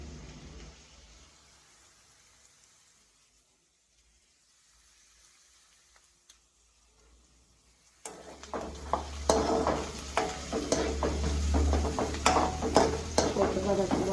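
Fennel and mustard seeds hit hot oil after a quiet stretch, breaking into a loud, close crackling sizzle with sharp popping bursts that builds and keeps going to the end.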